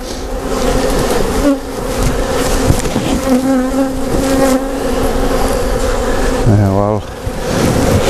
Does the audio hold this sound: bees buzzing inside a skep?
yes